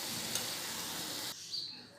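Chicken and capsicum fry in a pan with a steady loud sizzle and some stirring, close up, before the hiss abruptly drops away to a quieter background.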